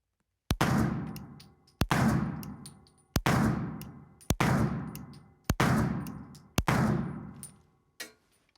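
A Rock Island STK100 9mm pistol fires six evenly spaced, sharp shots at an outdoor range, each followed by a ringing decay, then a fainter seventh report, with no talking.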